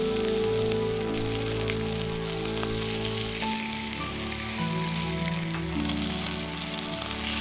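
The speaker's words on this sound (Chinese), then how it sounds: "油热后下入鸡腿排，用小火慢煎。" Chicken thigh fillets sizzling in hot oil in a flat frying pan over low heat, a steady close crackle and hiss with a constant hum beneath and no talk.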